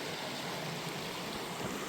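Rushing water of the Metal River along a mountain trail between Hart's Pass and Rainy Pass, a steady broadband wash holding constant and close throughout, with no voices over it.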